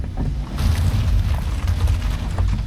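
A Suzuki Super Carry mini truck accelerating hard off-road through rough, slippery ground, with a loud, continuous low engine drone and rumble close to the microphone and no talk.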